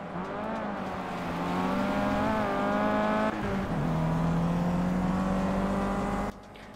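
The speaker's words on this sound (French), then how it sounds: "Là, on arrive presque à la vitesse de pointe de la Mégane." A Renault Mégane 3 RS engine in a Nürburgring racing video game holds a loud, sustained high-revving whine, shifting gear once midway and climbing again before cutting off near the end, with no talking.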